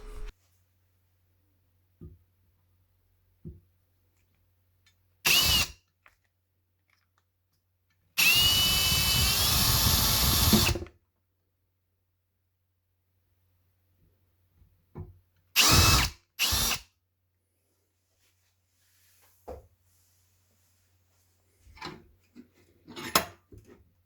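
Short bursts of a power drill whirring as a 1.5 mm bit enlarges a nozzle, one longer sustained run in the middle, with quiet gaps and small clicks between; close and fairly loud.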